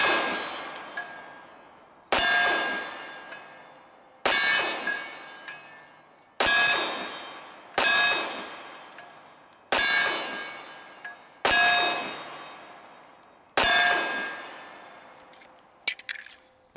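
A Wilson Combat pistol magazine for a Charles Daly Empire Grade 1911 drops and clangs seven times in a steady rhythm, each loud metallic ring decaying over about two seconds, with no talk.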